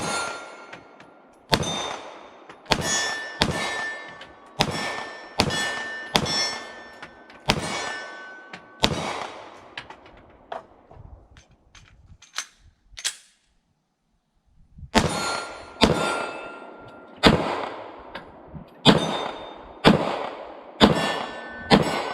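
An IWI Masada 9mm pistol fires at steel targets from about 15 yards, with sharp shots and the ringing clang of hit steel in steady strings, a quieter stretch midway, then another fast string.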